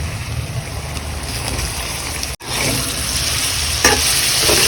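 Soya chunks and moong dal stirred gently through a sizzling pan, with a continuous frying hiss and wet scraping of a spoon close by, briefly interrupted midway, with no voices.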